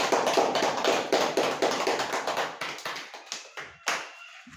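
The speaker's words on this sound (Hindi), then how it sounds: "हम यीशु मसीह के लिए एक बार अच्छी ताली बजाएंगे।" A church congregation claps together in praise of Jesus, a burst of many sharp hand claps that thins out and fades over about four seconds. A few scattered claps remain near the end.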